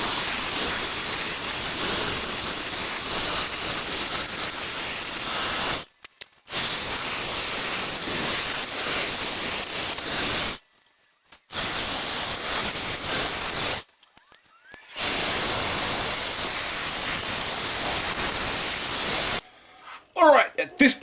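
Hollowing tool cutting inside a wooden hollow form on a lathe, a loud, steady hissing scrape that runs in long passes broken by short silent pauses, with a brief bit of talk at the very end.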